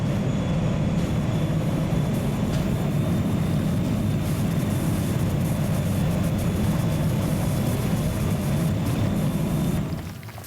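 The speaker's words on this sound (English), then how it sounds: "And there's the plane." Passing airplane in PowerWash Simulator, a loud continuous broadband roar that holds steady for about ten seconds before cutting off abruptly, with no talk over it.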